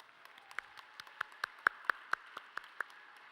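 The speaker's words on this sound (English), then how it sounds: "Let's give them a round of applause." Scattered, sparse clapping at a charity art auction as staff and volunteers stand, with a few sharp individual claps ringing out over a quiet room.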